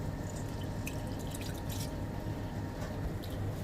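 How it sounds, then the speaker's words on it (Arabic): Water runs and splashes steadily into a pot of rice being soaked for mandi, a continuous close trickle with small drips and no talking. "هلا بنروح ننقع الرزات في المي"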